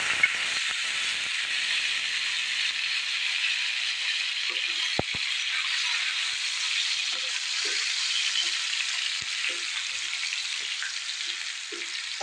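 Potato pieces frying in hot oil with asafoetida and a bay leaf for an Assamese taro-leaf curry, a steady bright sizzle and hiss that runs throughout, with a few faint stirring knocks and clinks near the pan.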